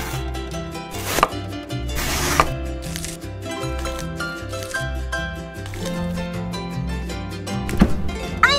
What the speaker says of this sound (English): First, cut the watermelon into small pieces.